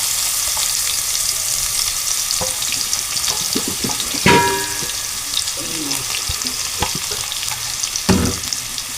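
Chopped onion with turmeric and a pinch of asafoetida sizzling in hot oil in a pan, a steady close frying hiss broken by scraping stirs and a few sharp clatters.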